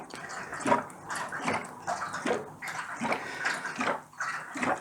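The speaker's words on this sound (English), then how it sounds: "I'm just gradually squeezing this and just letting it go into the radiator." Liquid heating-system inhibitor squeezed from a bottle through a funnel into a radiator, giving a run of repeated gurgling, splashing pours in an uneven rhythm, close up with no talk.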